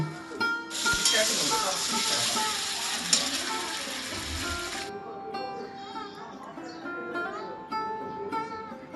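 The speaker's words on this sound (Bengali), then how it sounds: "ভেজে নিব ভালো করে নেড়ে চেড়ে আমি ভেজে নিব" Potatoes and paneer fry in a pan while being stirred, giving a loud, dense sizzle for about four seconds that then drops away, leaving quieter clinks and pan sounds.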